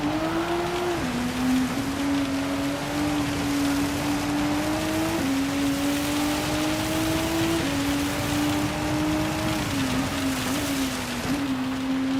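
Steady hiss of rain in the Gran Turismo 7 racing video game over a continuous engine drone whose pitch climbs and drops with each gear shift; no talking.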